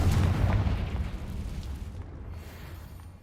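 A Confringo spell explodes in Hogwarts Legacy with a heavy, deep boom that rumbles and fades over a few seconds, with no voices.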